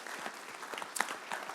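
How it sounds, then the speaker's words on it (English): A small seminar audience gives a short round of applause, faint, quick clapping with a few distinct sharper claps, brief and fairly distant. "Give him a round of applause"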